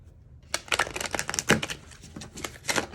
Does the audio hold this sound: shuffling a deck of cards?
yes